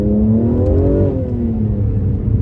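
A loud Mercedes-AMG C43 engine revs hard, its pitch rising and then sliding back down over a steady low rumble, close and continuous.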